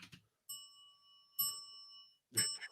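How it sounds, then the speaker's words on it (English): A small hand bell gives three separate bright rings, each with a sustained metallic tone, close to the microphone and unaccompanied by other sounds. "I need my little bell."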